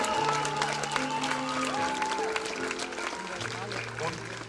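A crowd at an outdoor soul concert in Braunschweig claps and cheers loudly while sustained instrument tones ring out beneath, with voices mixed into the audience noise.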